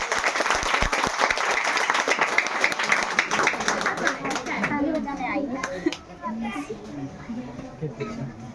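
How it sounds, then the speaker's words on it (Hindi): Students and guests applaud at a school farewell ceremony, a lively burst of clapping that fades after about five seconds into children's chatter and voices nearby. "एक बार जोरदार तालियां हो जाए"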